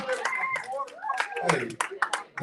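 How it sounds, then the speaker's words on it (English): An open mic night audience breaks into quick, uneven bursts of clapping, with voices and excited calls mixed in close by. "Clap it up"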